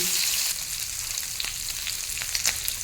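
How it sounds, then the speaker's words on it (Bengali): Tengra fish fry in oil in a pan, giving a dense, steady close-up sizzle with small crackles and pops and no talking. "যতক্ষণ না একটা পিঠ ভালোভাবে ভাজা হয় ততক্ষণ উল্টাবো না"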